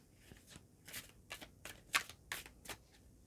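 Tarot cards shuffled by hand during a Libra reading, heard as a quick series of about seven crisp papery riffling bursts, close and fairly quiet, with no talking.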